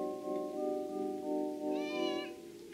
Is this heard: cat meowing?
yes